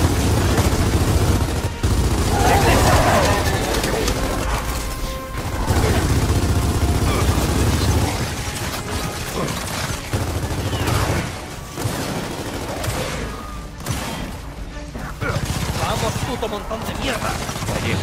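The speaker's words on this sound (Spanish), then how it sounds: "Entonces ves que disparan a los que están disparando." Rapid bursts of gunfire and booming shots from the video game Gears of War 4 crackle continuously, loud and dense, with a voice talking over the battle noise.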